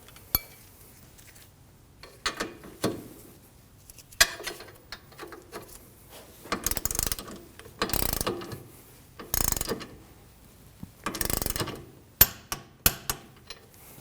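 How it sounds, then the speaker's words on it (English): A wrench ratchets on a rear sway bar link's upper nut on a 2013-2015 Subaru XV Crosstrek, producing intermittent bursts of close, metallic clicking across a quiet background, with a few sharp knocks. "Torque the upper nut to 44 foot-pounds."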